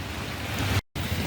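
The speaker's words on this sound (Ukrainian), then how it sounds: "Іде дощик." Light rain falls outdoors on a mild summer day, a steady close hiss that cuts out for a moment near the end before resuming.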